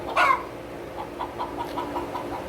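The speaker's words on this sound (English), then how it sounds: "you can probably hear her, this chicken." A hen loose in a barn with a goat pen and brooder lets out one loud squawk, followed by a string of softer, rhythmic clucks close by.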